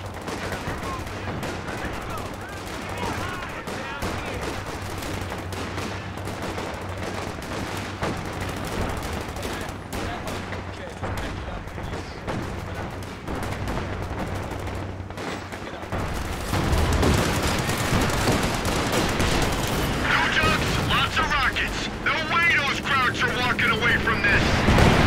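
Battlefield gunfire in Company of Heroes during the Ardennes Assault at Ouren, steady rattling rifle and machine-gun fire with distant explosions, growing louder and denser toward the end, under radio-style voice chatter.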